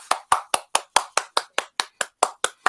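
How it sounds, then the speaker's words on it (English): A single person clapping hands steadily at a livestream, about a dozen crisp, evenly spaced claps close to the microphone with silence between them, rather than a crowd. "So give yourself a round of applause."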